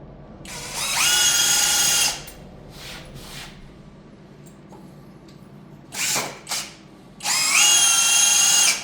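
A power drill drives 4.70 screws into a wooden Montessori children's bed frame: two loud, sustained whirring runs with pitch shifts as the screw seats, separated by short clicks and brief bursts, close by.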